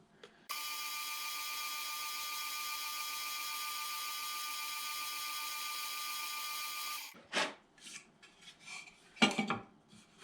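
A drill bores string-through ferrule holes in a guitar body, giving a steady, high whirring hum for several seconds that ends abruptly, followed by a few scraping and clattering handling sounds.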